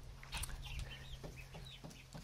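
Eight-week-old Exchequer Leghorn chicks cluck and chirp softly in short, scattered calls, fairly close, with no talking.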